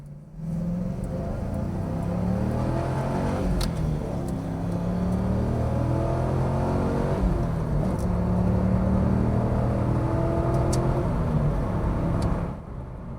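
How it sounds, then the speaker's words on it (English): The LS1 V8 engine of a 2002 Chevrolet Camaro SS with factory exhaust burbles and revs moderately, a smooth low growl rising and settling, not very loud, with no talking. "This is factory exhaust, so not terribly loud, but still sounds good."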